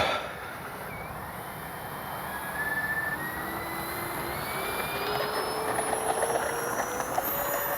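A Freewing twin 70mm electric ducted fan AL-37 RC jet takes off with flaps down, its high fan whine rising in pitch and fading into the distance over a steady outdoor background.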